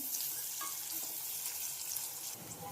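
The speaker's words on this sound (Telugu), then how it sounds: "ఈ ఆనియన్స్ కూడా లైట్గా వేగనివ్వాలి లైట్ పింక్ కలర్ వచ్చేదాకా కొంచెం వేయిద్దాం" Onions and green chilies frying in a pan: a steady, close hiss and crackle of sizzling oil that runs continuously, with faint stirring clinks now and then.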